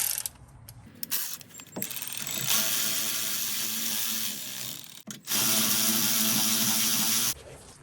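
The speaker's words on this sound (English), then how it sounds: "I like to use my electric ratchets" An electric ratchet whirs in long bursts at close range while loosening a brake caliper bolt on a Honda with an electronic parking brake, with a brief pause between two runs and a few clicks.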